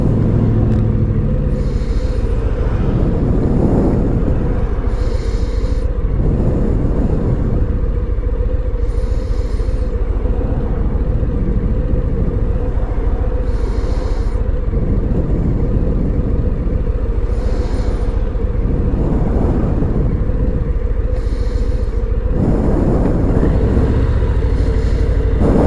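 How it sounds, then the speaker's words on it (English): Busy road traffic in Tallahassee heard from a 2022 Harley-Davidson Low Rider motorcycle: a steady engine rumble with repeated swelling whooshes as vehicles pass close by every few seconds. "Yeah, lots and lots of traffic"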